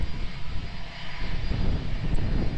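An airplane on approach to land at Lisbon Airport, a steady loud engine roar with low rumble holding throughout, heard from a distance with no talk over it.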